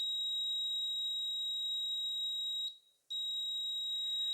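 A homemade motion alarm sounds a piercing, high-pitched electronic tone steadily, cuts out for a moment, then starts again at full strength.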